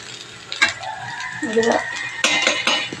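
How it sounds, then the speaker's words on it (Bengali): Kochu loti (taro stolons) and potatoes frying in a pan, with a steady close sizzle broken by a few sharp scrapes and clinks of stirring. "এনেকে ভেজে নিতে হবে কচুর লতি আর আলুকে"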